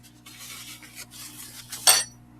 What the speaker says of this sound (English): Just wipe off my spoon here.